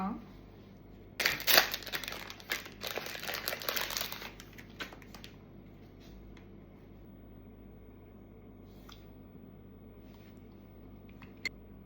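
A croissant ice cream wrapper being opened, a burst of loud crinkling and tearing plastic for a few seconds, followed by quiet rustles and faint handling sounds.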